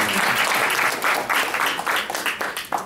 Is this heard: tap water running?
no